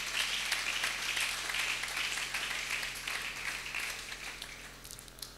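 A church congregation at a Sunday service applauding together, a steady, dense wash of clapping that holds through the whole stretch and fades slightly toward the end.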